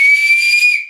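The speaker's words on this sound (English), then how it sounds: "It's just a whistle." A single shrill, steady whistle blast from a toy saxophone, loud and close, holding one high pitch for just under a second before cutting off.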